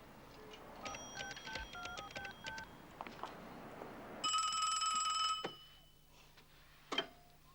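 A telephone being dialed in a 1990 French-dubbed comedy film, with a quick series of distinct touch-tone beeps followed by a longer sustained tone and a final short beep, clear and close in a quiet room.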